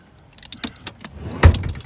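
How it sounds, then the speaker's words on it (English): The back seat of a Prius V wagon is slid forward, giving a few light clicks and rattles, then a sharp latch clunk with a short scraping tail. "We're going to scoot the seat forward"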